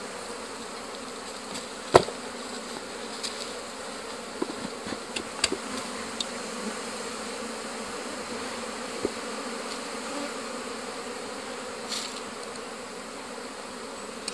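Bees buzz continuously around beehives in an apiary, a steady close drone with scattered clicks and knocks from handling the hive frames.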